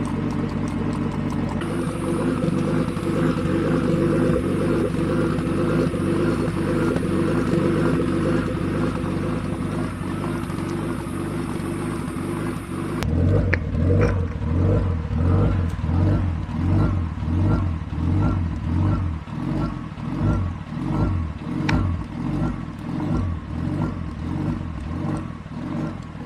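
Car engine idling with a Haltech Elite ECU rotational idle ghost cam tune, fuel pulled back about 20%, a steady loping rumble throughout that shifts to a choppier, lumpier beat partway through, close and loud with no talk.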